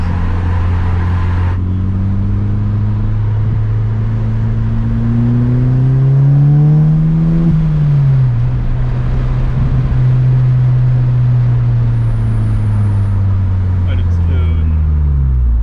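A Polo WRC rally car accelerates hard, its engine note climbing steadily in pitch through a gear before dropping and holding a loud droning roar, with someone speaking briefly over it.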